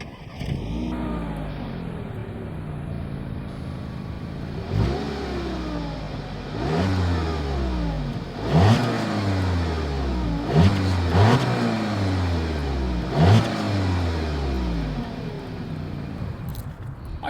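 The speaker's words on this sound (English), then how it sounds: "As always, here is that exhaust clip." A 2020 Audi A3 with dual exhaust revs in a series of sharp, close blips after an idle, each rising and falling quickly in a steady, repeated rhythm with no talk over it.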